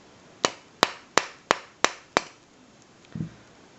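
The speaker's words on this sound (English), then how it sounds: "put the punch in flat on the table and if you hammer it through" A steel punch is hammered through an H&K P30 pistol part resting flat on a table, giving six sharp, evenly spaced metallic strikes up close, followed by a softer clunk.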